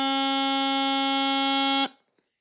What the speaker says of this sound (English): And C should sound like this.